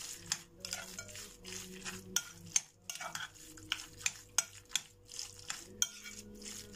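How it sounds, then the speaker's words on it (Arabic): Spoon stirring a carrot drink with spices in a pot, close rhythmic scraping and soft clinks against the metal, repeating steadily at a low level without talk. "وأقلبها بس بالشكل ده كده"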